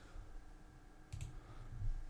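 A single mouse click while working in the Eclipse IDE, a soft brief tick heard alone against a quiet room background.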